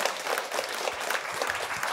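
Audience applause at a live Christmas Eve radio entertainment show broadcast from a villa, steady dense clapping filling the whole stretch with no voices over it.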